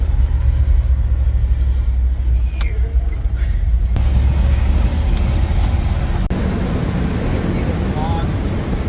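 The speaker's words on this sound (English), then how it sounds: "We're cruising around the city here" A car cruises through city streets with a low, steady engine and road rumble and constant tyre noise from inside the cabin, with a few faint clicks and knocks along the way.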